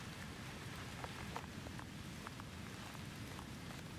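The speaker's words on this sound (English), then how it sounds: "The rain had followed you home from the auction. It drummed softly against the window of your study" Steady soft rain patters against a study window, a continuous gentle hiss with faint scattered drops, low and even throughout with no voices.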